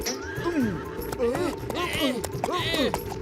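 A cartoon scooter in a Motu Patlu race lets out a horse sound effect: repeated loud, wavering neighs and whinnies with clip-clop hooves, coming in quick bursts.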